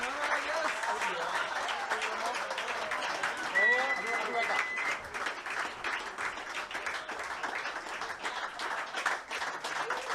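A concert crowd applauding at a live show, dense sustained clapping that fills the space continuously, with scattered cheers and voices mixed into the wash of hands.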